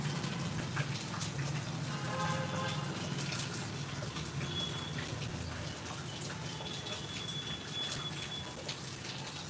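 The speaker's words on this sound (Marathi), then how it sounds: "आमच्या हिंगोलीला भरपूर पाऊस चालू आहे" Heavy rain pours down in Hingoli, a dense, steady hiss of drops hitting surfaces that continues without a break, fairly soft overall.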